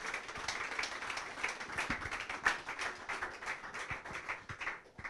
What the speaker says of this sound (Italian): E allora un applauso alla Dilettanti Falasche.